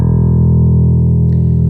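Bass guitar run through a distortion plugin in an Ableton session, a loud, steady sustained tone with dense gritty harmonics and no talk over it.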